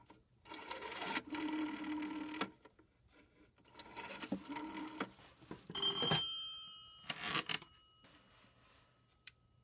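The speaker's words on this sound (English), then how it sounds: "So let's just dial 105." Extension 105 is dialed on a PBX telephone system after a switch-hook flash, heard as bursts of rapid mechanical pulse-dial clicking, then a brief bright tone and a short electronic ring, all fairly quiet.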